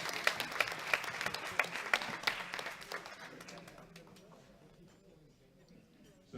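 Audience applause at the World Classic Powerlifting Championships 2021 for the men's Masters 4 classes, a burst of clapping with several sharp claps that tapers off into a quieter, fading patter in a large hall.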